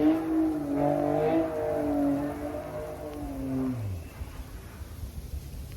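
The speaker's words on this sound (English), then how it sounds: "somebody's playing in the parking lot with their car." A car engine revs in a cold parking lot, rising and falling through several strained pulls before dropping away into a low idle and a rougher rumble, moderately distant and with no talk over it.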